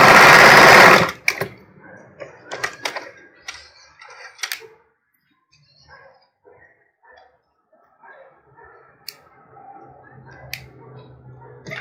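Sewing machine stitching bra fabric, starting with a loud, steady whir for about a second. Short, quieter bursts of stitching and clicks follow at intervals.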